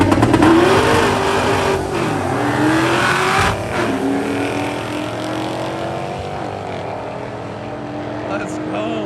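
A Vortech-supercharged race car launches hard off the line at PIR, its engine roaring loud and close as it revs up through the run, with tires spinning and voices talking over it.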